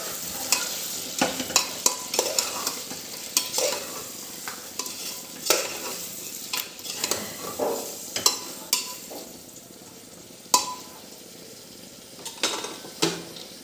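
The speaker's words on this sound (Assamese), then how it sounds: "আৰু এতিয়া ভালদৰে লৰাই আৰু অলপ দেৰি সিজিবলৈ দিম।" Goat meat with onion-garlic paste stirred in a pot while cooking, repeated sharp spoon scrapes and clacks against metal over a constant sizzle, close and loud with no speech.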